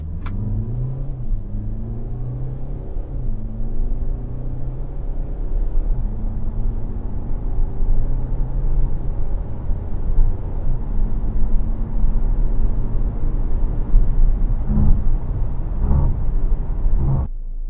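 A Mercedes-Benz GLC220d Coupe 4Matic diesel sprints from 0 to 100 in S mode on a Grand Prix circuit, engine rising through several paddle-shifted gears with rising and dropping revs over a loud, constant cabin rumble.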